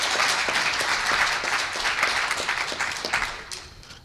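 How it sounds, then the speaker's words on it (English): Audience applause welcomes the Minister of Education at a youth innovators event in Jamaica, a steady dense wash of many hands clapping that holds for about four seconds and fades slightly at the end. "Ladies and gentlemen, a round of applause for the Honorable Reverend Ronald Thwaites,"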